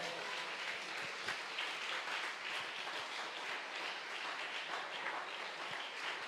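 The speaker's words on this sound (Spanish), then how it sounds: "Dale un aplauso al Señor" Audience at a church leadership talk giving steady, dense applause, continuous clapping from many hands throughout, fairly close and even in level.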